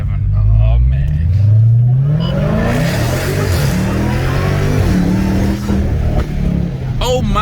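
Dodge Scat Pack 392 V8 with Dynomax exhaust, mid and muffler deleted, revving loudly nearby in a deep, rising roar that holds and then eases off, with people talking over it.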